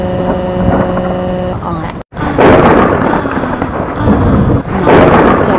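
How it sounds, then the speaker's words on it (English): Loud thunder rolls in heavy bursts, broken by a sharp cut-off near the middle, with a faint tonal hum beforehand and booming rumbles continuing after. "I'm scared of the thunderstorm."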